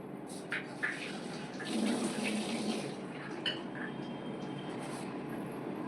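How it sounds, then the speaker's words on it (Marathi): Water is poured into a pan of prawn curry. A short gushing swell rises midway through the quiet kitchen background, and faint clinks can be heard around it. "थोडंसं पाणी टाकते त्याच्यामध्ये."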